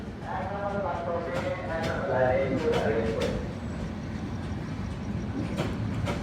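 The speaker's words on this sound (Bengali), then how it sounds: "ঢাকাগামী আট শূন্য শূন্য ডাউন জামালপুর এক্সপ্রেস ট্রেনটি একই সাথে ঢাকার উদ্দেশ্যে যাত্রা শুরু করলো" The Jamalpur Express departing a station in Bangladesh rumbles past with a steady low roar and rhythmic clatter while a voice talks over it.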